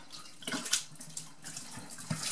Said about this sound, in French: Je verse ça dans l'évier, ça permet de déboucher sans aucun traitement.